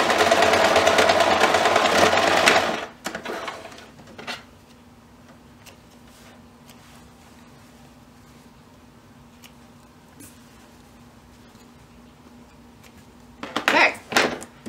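A sewing machine runs steadily for about three seconds as it stitches forward and back along a dish towel seam. The stitching is loud and continuous, then stops abruptly, and only a faint hum and a few small clicks follow.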